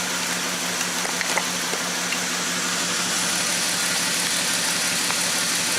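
A car engine idling with the number 2 cylinder unplugged, a steady close hum with an uneven, stumbling misfire running through it.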